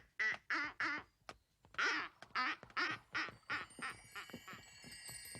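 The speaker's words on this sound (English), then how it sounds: "a duckling was following them" A duckling from the 1988 Raggy Dolls cartoon quacks in a rapid series of about a dozen loud, close calls, the later ones weaker, with no talk over them.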